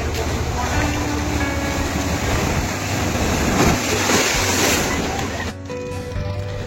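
Sea waves roll and wash steadily where the Champa river meets the Bay of Bengal at Digha Mohana, a broad, continuous surf roar with wind rushing across the microphone, easing slightly near the end.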